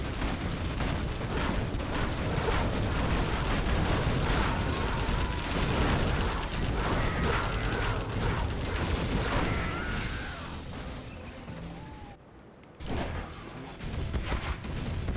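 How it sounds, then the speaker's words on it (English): A large building explosion in Command & Conquer Generals during a USA versus GLA match: a dense, sustained rumbling roar of blasts and debris lasting many seconds, briefly dropping away before more crashes. "Taking down that building. It's quite a big animation there, a big explosion."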